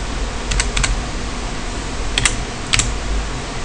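Several short keystroke clicks on a computer keyboard, typed in two small bursts and then a couple of sharper taps, close and clear over a steady background hiss, with no voices.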